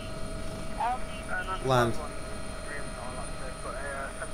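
A steady drone of the AW-139 helicopter's rotor and engine in the X-Plane 11 flight simulator runs under radio-style voices exchanging air traffic control calls.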